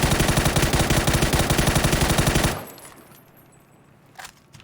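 Rapid automatic gunfire in the battle royale game PUBG, a loud, close, evenly pulsing burst of shots lasting about two and a half seconds, then cutting off to near quiet with one faint thump afterward.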